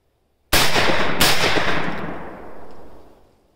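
A Girsan MC312 shotgun fires two loud, sharp blasts in quick succession outdoors, each followed by a long rolling echo that fades away.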